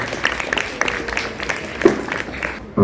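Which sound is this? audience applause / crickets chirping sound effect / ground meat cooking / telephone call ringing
audience applause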